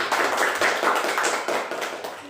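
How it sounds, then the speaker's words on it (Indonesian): A classroom group claps for group 1, a dense, steady patter of many hands that stays fairly loud throughout and eases slightly toward the end. "tepuk tangan coba dulu untuk kelompok 1"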